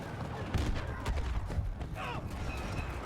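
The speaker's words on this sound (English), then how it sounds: "I don't trust in these explosions." Scattered gunfire and explosion thumps rattle through a Star Wars Battlefront battle, irregular sharp bursts over a steady rumbling background.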